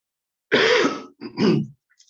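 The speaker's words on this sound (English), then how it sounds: "so I'm starting to cough" Two short, rough throat sounds, a harsh cough followed by a brief clearing, close and fairly loud, with silence around them.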